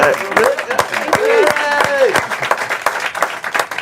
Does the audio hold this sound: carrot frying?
no